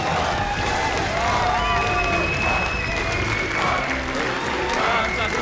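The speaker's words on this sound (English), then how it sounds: "I'll let the crowd sing it for us." Large arena crowd at a League of Legends LCS EU Spring Playoffs semifinal esports match, singing and cheering together in a dense, continuous roar with clapping mixed in, loud and sustained throughout.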